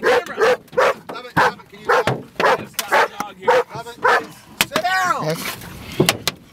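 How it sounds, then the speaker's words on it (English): Dog barking repeatedly inside a car during a tornado chase, loud close rhythmic barks and yips roughly every half second, mixed with whimpers and voices talking. "Can you stop the dog here?"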